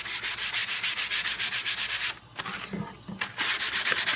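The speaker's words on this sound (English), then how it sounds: "go ahead and sand this one" Wood sanded by hand with rapid, even back-and-forth rubbing strokes close up, pausing briefly midway with a few soft knocks before the steady scraping rhythm resumes.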